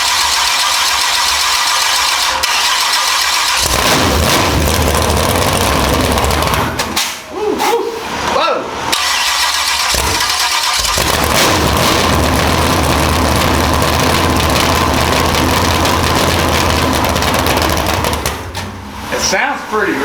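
A big block Chevy jet boat engine mounted on a stand cranks, fires and runs loud and rough for a long stretch, with a brief dip and restart midway and a few voices partly buried under it.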